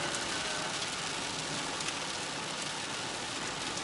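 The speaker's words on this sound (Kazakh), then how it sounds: "жауын жауып жатыр" Steady rain falls in Shymkent, Kazakhstan, a dense, even hiss of drops that stays constant and fairly loud throughout, with no voices.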